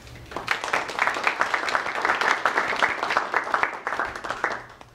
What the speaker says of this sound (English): Please join me in welcoming them with a round of applause